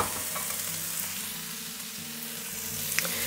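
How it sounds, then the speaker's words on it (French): Fresh tomatoes drop into a hot pan of harissa, garlic and onion, setting off a steady, loud sizzle and frying hiss with faint stirring scrapes, with no talking. "Vous allez ajouter vos tomates."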